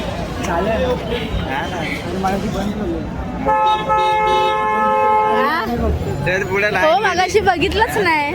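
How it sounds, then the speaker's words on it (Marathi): A vehicle horn blares in a long, steady honk close by, cutting through busy street noise while people talk over it, in a queue outside the Siddhivinayak temple. "अंकल कितना बजा रहे हो हॉर्न"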